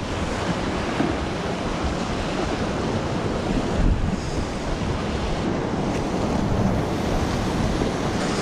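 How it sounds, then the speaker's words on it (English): Incoming tide swirling and washing around sea rocks on a rocky shoreline, a continuous loud roar of surf with wind buffeting the microphone, no talking. "you can see that tide coming in. Creates all the swirling action around all the rocks."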